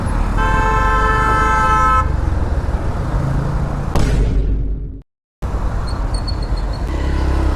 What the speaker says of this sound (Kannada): ಸೈಡ್ ಮೇ ಆಯಾ ತೋ ಭಿ ಹಾರ್ನ್ ಮಾಡ್ತಾ ಇದ್ದಾರೆ